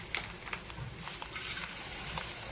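Spice masala dropped into hot oil in a home kitchen, a few sharp crackles and pops at first, then settling into a steady, soft sizzle heard close up with no talking.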